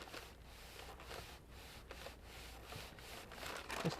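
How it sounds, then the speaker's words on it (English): Burnishing the spine of a Moleskine journal being made into a 2016 planner: faint, repeated rubbing strokes in a steady back-and-forth rhythm, quiet and close, with a slightly louder touch at the end. "Just kind of burnishing that spine down there to hold that."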